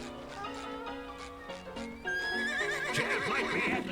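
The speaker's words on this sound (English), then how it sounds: "Barely hear you over the horse there." A horse in the SpongeBob SquarePants: The Cosmic Shake video game lets out a loud, wavering whinny with a rising high squeal, heard alone and up close.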